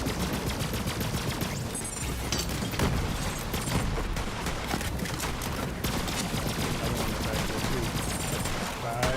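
Gunfire in Borderlands 3 at max level on Mayhem 11 crackles in rapid bursts and overlapping shots against a dense game soundscape, with a voice talking intermittently over the shooting.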